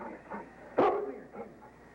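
A single sharp bark from a husky sled dog in a Yukon setting, standing out above faint, softer yips and background noise.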